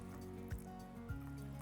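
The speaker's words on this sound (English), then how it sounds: "I'm gonna add 2 cups of water to the quinoa" Water pours from a cup into a pot of quinoa with dehydrated ingredients, a short close trickle with a couple of soft splashy drips.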